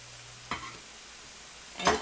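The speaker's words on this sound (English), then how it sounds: "stir that up and we'll let that get sauteing" Food sautéing in a skillet for a five-ingredient skillet meal, with a soft sizzle under two short stirring scrapes, one near the start and a louder one at the end.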